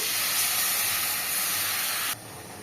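Water poured into hot fried spice paste for a Bengali tel koi fish curry, giving a loud, steady, steamy hiss that sizzles evenly for about two seconds, then drops away abruptly.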